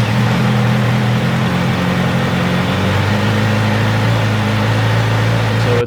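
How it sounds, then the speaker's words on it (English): A Kawasaki Z900RS Cafe motorcycle engine idles fast and steady right up close after a cold start, a continuous loud mechanical drone with a low harmonic hum, no voices. "One thing I really love is the cold start, high idle sounds"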